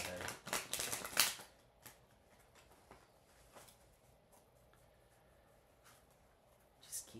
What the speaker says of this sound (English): I haven't gotten a sign from the universe to quit shuffling yet.